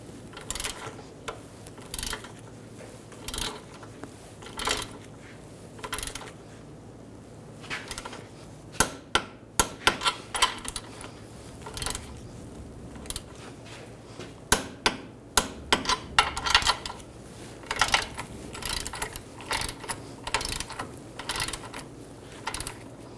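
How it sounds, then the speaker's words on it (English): A torque wrench tightens axle nuts on a 2009-2017 Volkswagen Tiguan, giving a run of sharp metallic clicks and knocks in irregular bursts, close and fairly loud, with no talking. "Now we'll torque these nuts to 73 foot-pounds."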